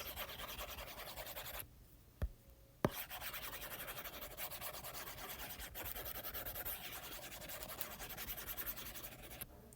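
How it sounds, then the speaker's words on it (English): Eraser rubbing across a board to wipe away writing, a continuous scratchy scrubbing in quick back-and-forth strokes, fairly faint and close, with a brief pause and a couple of small knocks. "So let me erase this."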